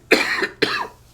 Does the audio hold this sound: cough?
yes